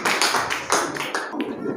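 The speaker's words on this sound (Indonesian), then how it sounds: "Tepuk tangan untuk kelas kita" A classroom of students claps hands together in a short, fairly loud burst of rhythmic applause, the sharp claps pulsing roughly four times a second before tapering off.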